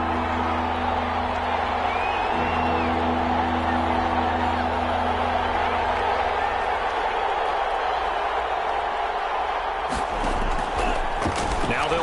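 Stadium crowd in a football video game, a dense, steady roar that holds at one level throughout, with a burst of sharper clatter and cheering rising near the end.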